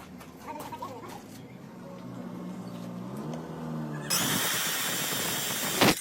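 A low motor hum rises in pitch, then a loud, harsh drilling noise kicks in as the drill bores through a plastic piece at a pipe repair, continuing steadily near the end.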